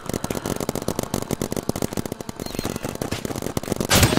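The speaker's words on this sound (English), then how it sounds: "This dude gonna turn into a firework." Roblox firework effect going off in a rapid barrage of crackling pops and bangs, dense and loud, with a brighter burst near the end.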